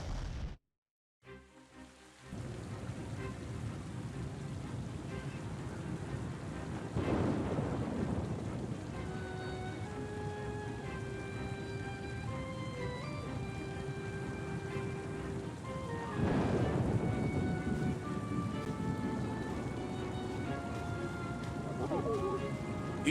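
A thunderstorm in the video game Oceanhorn 2: a steady hiss of heavy rain with two deep rolling thunder rumbles spaced well apart, under soft music and a narrating voice.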